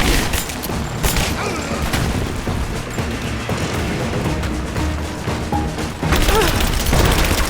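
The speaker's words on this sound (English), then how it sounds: "Laying down covering fire!" Heavy gunfire from a combat firefight in the video game Rise of the Tomb Raider, with dense, loud volleys of shots and booms rattling continuously, swelling louder near the end.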